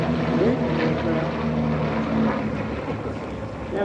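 A French Epsilon propeller plane drones overhead at the EAA AirVenture airshow, its engine and airscrew giving a loud, steady buzz with a slight pitch sweep as it passes.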